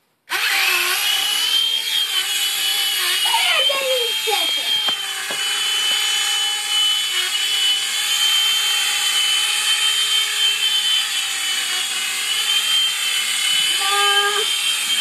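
A Nine Eagles Bravo SX radio-controlled helicopter lifts off and lands, its small rotor and motor giving a steady, loud, high-pitched whine close by that shifts in pitch briefly during the manoeuvres.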